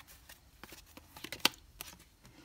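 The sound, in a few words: tarot cards being handled and laid out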